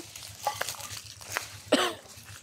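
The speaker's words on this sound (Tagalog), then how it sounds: "Inuubo ka eh." A person coughs once sharply and close by amid a quiet rural farm setting in the provinces, with faint background murmur and low rhythmic hum.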